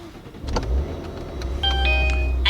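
A 2020 Maserati Ghibli S Q4 Ribelle Edition, started with its push button inside the cabin: a quick click and chime tones, then the engine catches with a deep low rumble that settles into a steady idle.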